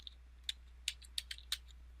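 Keys tapped on a computer keyboard, five or six quick, light clicks spaced irregularly over two seconds, close and faint against a quiet background.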